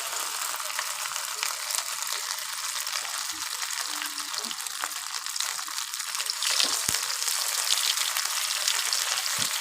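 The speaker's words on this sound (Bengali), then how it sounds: "এই দেখুন চাটু গরম হয়ে গিয়েছে। দিয়ে দেবো ডিমগুলো।" Eggs fry on a hot griddle with a continuous, bright crackling sizzle that holds steady throughout, with occasional small pops and a faint murmur of background noise.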